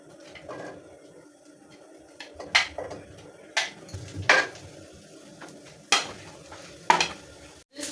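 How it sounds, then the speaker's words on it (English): Onions stir frying in cooking oil in a pan, with scraping and stirring strokes that recur every second or so over a steady low sizzle, close and moderately loud, with no talking. "Add some cooking oil, enough to stir fry the rice."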